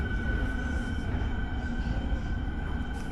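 A Warsaw Metro train runs underground with a continuous low rumble of wheels on track and a faint steady whine above it. No one speaks.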